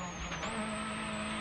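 Mikko Hirvonen's rally car drifting uphill on tarmac at a 2011 WRC power stage in Spain, a steady engine drone with rising pitch and a brief tyre squeal, heard fairly far off and alone.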